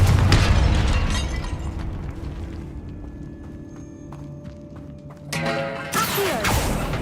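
A Confringo fire spell explodes in Hogwarts Legacy, opening with a loud booming blast that rumbles and decays, followed a few seconds later by fresh bursts and crackling impacts.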